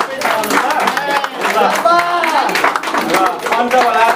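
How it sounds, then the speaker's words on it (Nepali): A congregation clapping at a Nepali Christian wedding ceremony in a church, scattered applause mixed with loud talk and voices over it. "सबैले ताली बजाउनुहोस्"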